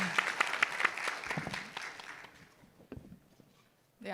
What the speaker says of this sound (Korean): 1번을 끊으신 분께 우리 박수로 한번 환영해